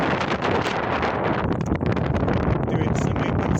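Strong wind buffeting a microphone outdoors, a continuous loud roar and rumble with gusty fluctuations throughout.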